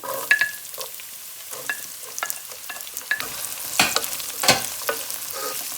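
Eggplant and onion fry in a pan, with a soft sizzle running under repeated scraping stir strokes that land every second or so, close and moderately loud, with no talking.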